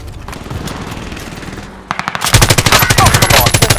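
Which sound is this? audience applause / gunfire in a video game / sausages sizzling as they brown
gunfire in a video game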